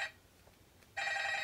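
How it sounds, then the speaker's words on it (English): An office telephone rings in the Five Nights at Freddy's video game, two bright electronic ring bursts separated by a short quiet gap, clear and alone. "This must be the phone call."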